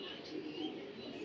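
A racing pigeon from a club loft coos softly and repeatedly, a faint low throaty murmur heard close by under light background noise, with a voice present.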